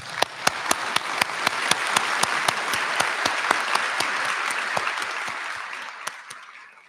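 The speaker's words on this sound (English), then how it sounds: "let's give them a hand of applause" Audience applause at a college honors convocation ceremony, a steady wash of many hands clapping with a few sharp, louder claps standing out near the microphone, fading slightly toward the end.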